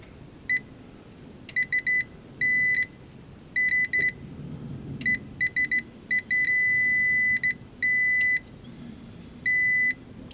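Electronic tester beeping during a flame sensor check on a York Diamond 80 furnace, sounding in irregular bursts of short chirps and longer steady tones over a low background rumble.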